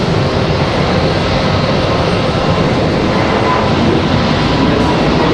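A Breeze Airways airliner departs from Raleigh-Durham International, its engines a loud, steady broadband roar that holds without letup throughout.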